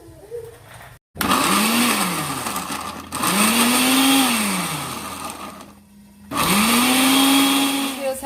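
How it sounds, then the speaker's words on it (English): A kitchen blender purees tomato and serrano peppers for a sauce, loud whirring bursts that rise and fall in pitch, cut by brief pauses between three pulses. "I'm going to blend the tomato and serrano in the blender for the sauce"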